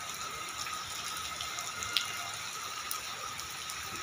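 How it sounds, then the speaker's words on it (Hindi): Steady rain patters softly with a few scattered sharper drips, a quiet, even wash of falling water. "ये मैं आपको बारिश की एक झलक दिखा रहा हूँ"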